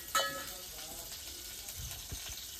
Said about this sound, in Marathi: एकदम सणसणाट.